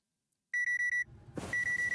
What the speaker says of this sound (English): Stop with the alarm.